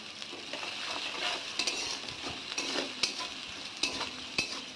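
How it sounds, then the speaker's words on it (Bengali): Chopped onions and garlic fry in oil in a home kitchen pan, giving a soft, steady sizzle broken by repeated scraping stirs of a spoon, fairly faint and with no talking. "পেঁয়াজটাকে এবার ভাজা ভাজা করে নেবো ওর একটু রসুন দিয়েছি"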